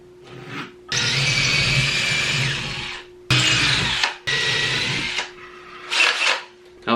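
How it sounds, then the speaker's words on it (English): A power drill whirs in repeated bursts as holes are re-drilled into a wall for a Perlesmith TV mount, with a steady motor tone, close and loud, separated by short pauses. "we'll transfer these circles over and re-drill our hole"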